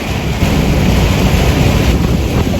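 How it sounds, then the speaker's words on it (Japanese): Heavy downpour lashes a car driving on an expressway under a heavy rain warning, a loud, dense, continuous hiss of rain and road spray with rumbling wind noise and no voices. "すごい雨。"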